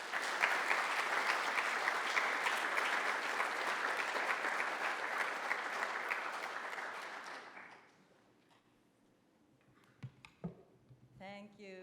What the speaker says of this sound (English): Let's all have a big round of applause for Professor Aoyama for being here today.